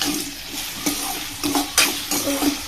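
Onion and tomato sizzle in a pan for a brinjal curry, a steady frying hiss broken by a few scraping stirs of a spatula.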